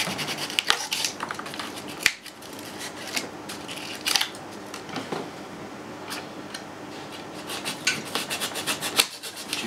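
A blade works through foam on the rear of a Clio 2 with steady rough rubbing and rasping strokes. Sharper scrapes recur every second or two at low level, and nobody speaks.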